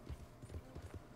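Horse hooves clip-clop at a steady trot in Red Dead Redemption 2, a quick run of soft, evenly spaced thuds, fairly quiet and with no speech.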